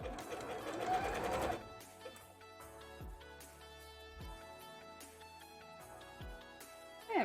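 A sewing machine stitching fabric for a cosplay bra runs in short, close bursts of stitching separated by brief pauses and clicks, with a louder rustle of handling fabric at the start.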